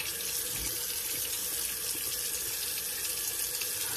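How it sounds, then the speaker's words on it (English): A running tap pours steady water into a sink to rinse alum off after shaving, a continuous close hiss and splash with no talking. "Okay, we'll rinse off the alum."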